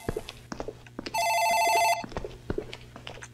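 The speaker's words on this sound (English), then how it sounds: "Damn, I missed the phone call." Telephone bell ringing in the video game Dark Fracture, one loud burst of about a second among soft thuds and footstep-like knocks, no talking.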